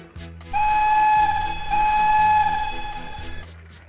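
A sustained, bright train whistle blows steadily for about three seconds, fairly close and loud, with a short dip midway before trailing off.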